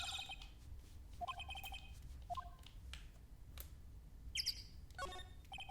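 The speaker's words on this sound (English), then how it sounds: "Chirp, chirp." Bird chirps in the courtroom adventure game Phoenix Wright: Ace Attorney come as short, bright electronic tweets, arriving in spaced clusters of a few notes over a quiet background.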